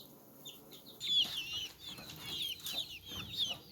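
Older chicks, six to eight weeks old and fully feathered, cluck and chirp outdoors in repeated short calls, moderately close, with a steady background of ambient noise and no talking.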